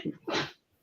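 A short, sharp sneeze bursts out after a brief breathy intake, close and fairly loud, then trails off into quiet.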